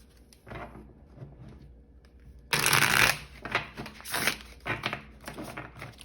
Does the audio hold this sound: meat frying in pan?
no